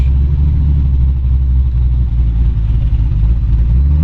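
A 1929 Ford Model A pick-up street rod with a 700R4 transmission drives along, giving a loud, continuous low engine rumble and road drone close by, steady throughout with no talk.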